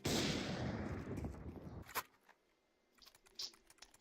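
Counter-Strike 2 gunfire, a loud dense burst of shots up front that ends sharply, followed by a few fainter isolated shots and clicks in a quieter background.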